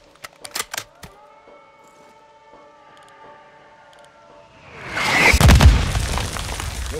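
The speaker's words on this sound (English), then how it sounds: "We're launching mortars." Mortar launches and explosions in the video game Call of Duty Modern Warfare II: a few sharp thumps early, a ringing hum, then a loud, rumbling blast that swells and lingers.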